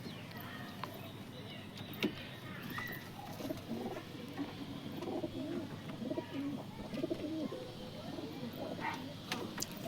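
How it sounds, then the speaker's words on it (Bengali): Domestic pigeons in a loft coo softly and repeatedly under a steady background hum, with scattered faint wing rustles and brief taps throughout. "ঘিয়ে চোখে পায়রা আছে"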